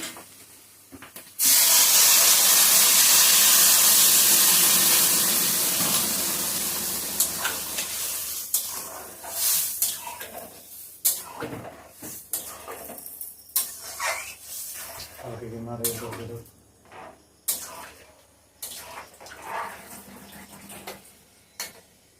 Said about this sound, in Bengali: এখন জলটা দিয়ে দিচ্ছি।